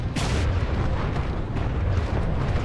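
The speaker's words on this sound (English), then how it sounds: "Got incoming enemy mortar Titans. They lob rockets from a distance." Rockets from mortar Titans exploding in a Respawn sci-fi shooter game, a loud rumbling blast that opens with a sharp burst and then stays as a heavy, sustained roar.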